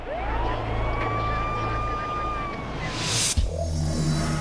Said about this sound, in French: une ambulance qui l'emmène d'urgence à l'hôpital